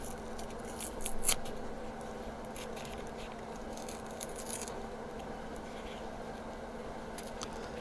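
Scissors cutting paper for a 3D birthday card, a few close snips and soft crisp paper rustles over a steady quiet room hum, with no talking.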